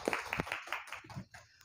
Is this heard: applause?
yes